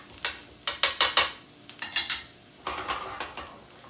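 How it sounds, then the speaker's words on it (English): Chopped shallots cooking in a pan over heat turned slightly down, with a spoon clattering against the pan in quick bursts of sharp metallic scraping and stirring, fairly close and with no talking. "a tablespoon worth of chopped shallots. And let them cook."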